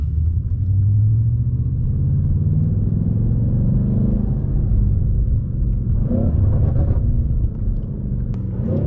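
A BMW M8 Competition fitted with a catless downpipe and Eventuri intakes rumbles loudly on the road, a deep continuous engine drone that swells as it revs up near the end, with no voices.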